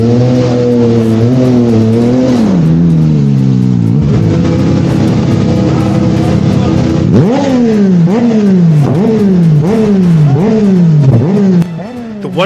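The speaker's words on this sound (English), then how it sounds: "The engine must have been shrieking off the rev counter." A loud motorcycle engine revving hard and repeatedly at a biker festival in Portugal, the pitch climbing and dropping in rapid cycles after a long descending whine.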